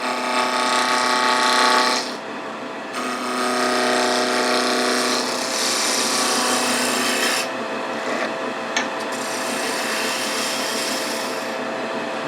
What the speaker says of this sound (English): We'll rough it round using a spindle roughing gouge.